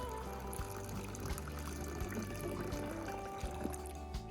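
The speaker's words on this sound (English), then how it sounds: "We're going to start by filling our container with clean water." Room-temperature water pours steadily into a container, about half a litre, making a continuous close trickling and splashing with a faint gurgle, no voices.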